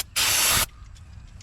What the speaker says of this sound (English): I'm gonna hit my brush with a little contact cleaner spray